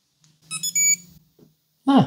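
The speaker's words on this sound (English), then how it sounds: "That's a decent sized beep." Alert tone from a Coros Vertix 2 sports watch: a few short high-pitched electronic beeps in a quick sequence, fairly loud and close, with a brief voice sound just afterward.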